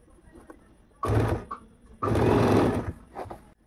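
A sewing machine stitching elastic into sharara pants, running in two close, steady whirring bursts, a short one and then a longer one, separated by quiet pauses with faint handling sounds.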